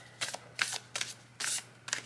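Tarot cards are shuffled up close in several quick riffling bursts, crisp papery flutters separated by brief pauses, with no one talking.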